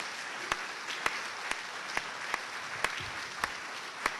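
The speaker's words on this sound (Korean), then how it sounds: "박수로 환영해 주시기 바랍니다" A church congregation at a Baptist national fellowship meeting claps to welcome a guest pastor. Distinct, evenly spaced claps land about twice a second over a soft background wash, moderately loud with no talking.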